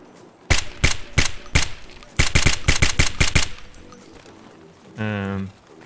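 Rapid bursts of SKS rifle fire from Escape from Tarkov crack out in quick rhythmic volleys, followed by a short mechanical reload-like sound near the end.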